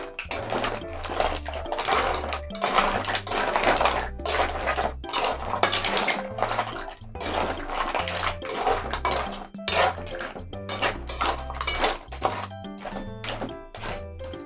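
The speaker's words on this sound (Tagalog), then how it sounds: "Haluin muna natin bago natin takipan." Mussels and crab in a pot with Sprite are stirred before the lid goes on, producing repeated metallic clanks and scraping knocks of utensil against pot in an uneven rhythm, close and fairly loud, with no voices.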